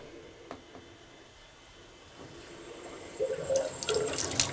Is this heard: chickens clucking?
no